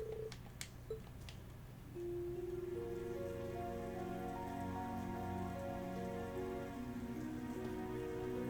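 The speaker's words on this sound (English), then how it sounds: "Oh no! I didn't think it was raining this hard." Heavy rain in the video game Trails of Cold Steel III, a steady dense hiss that swells after a couple of seconds and runs on under sustained tonal background music, with a few brief tone blips near the start.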